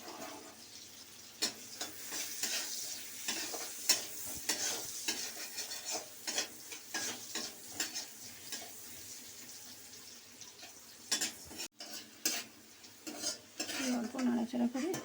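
Maggi noodles being stirred in a pan with oil, a faint sizzle under irregular clattering scrapes and taps of a spoon against the pan, repeated throughout, with a brief pause near the end.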